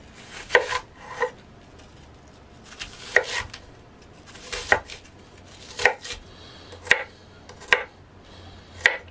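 A knife chops through an onion on a board in a home kitchen, about ten sharp separate strokes in an uneven rhythm, close and fairly quiet with no talking.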